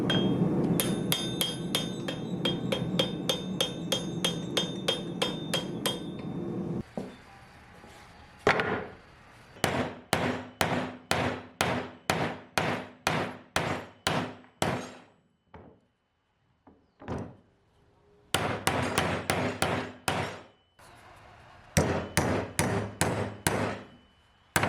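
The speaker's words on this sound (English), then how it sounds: "clean up the nail, straighten anything you need to out, and get ready to peen the end of it" Hammer blows peening the end of a hand-forged blacksmith nail, sharp metallic strikes in rapid rhythmic bursts, close and loud, with short pauses between runs of ringing hits and no talk.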